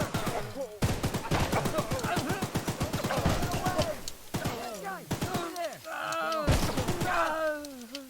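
Rapid gunfire in the video game Choo Choo Charles, a dense string of sharp shots for several seconds followed by scattered single bursts, with groaning voices and game sounds mixed in.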